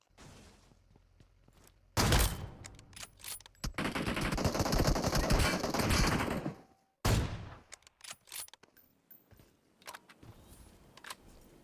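BGMI video game gunfire: a sharp burst, then a long sustained automatic volley for several seconds, another loud burst and scattered clicks and handling sounds, close and loud with no talk.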